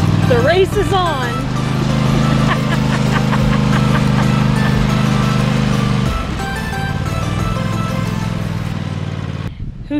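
A racing lawn mower engine drones steadily and loudly throughout, with people talking and shouting over it before the pitch dips briefly near the end.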